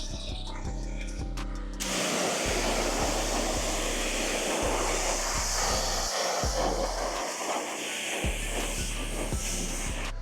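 A pressure-washer spray rinses down a car during a wash, a steady broad hiss running nearly throughout after a brief quieter start, over a low rhythmic thumping of the machine.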